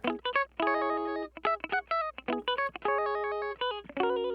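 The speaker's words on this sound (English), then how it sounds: "Guitar loop, and it sounds like this" A bright, plucked guitar phrase plays as a one-shot sample in Ableton Live 10's Simpler, short choppy notes and chords in a rhythmic looped riff with clean, slightly processed tone.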